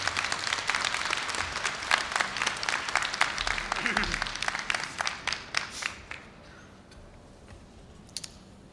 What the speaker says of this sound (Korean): 여러분 뜨거운 박수로 우리 선배님을 환영해 주시기 바랍니다.